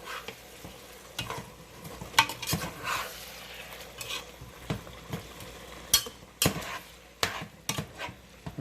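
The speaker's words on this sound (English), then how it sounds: "you're going to stir this up here" Vegetables for vegan jambalaya, peppers among them, stirred in a pot: repeated scraping and knocking of a utensil against the pot in an uneven rhythm over a soft sizzle, close and clear with no talking.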